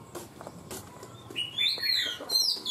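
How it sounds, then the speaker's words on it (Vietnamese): Caged birds kept indoors at a house: a few short chirps and whistled tweets, bright and fairly close, rising toward the end over quiet room background. "Như ở trong nhà cũng còn chim nữa."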